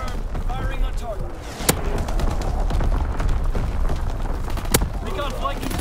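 Incendiary artillery strike in Call of Duty WWII Domination on the Shipment 1944 map: a dense, continuous rumble of booms and crackling fire with two sharp loud cracks, heard under game voice chatter.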